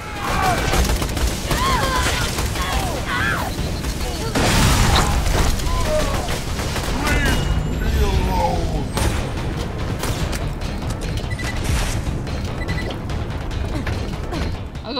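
Gunfire in Borderlands 2 co-op play: dense, continuous shooting and clanking mechanical noise with occasional booms, loud and busy throughout, with a player's voice talking in between.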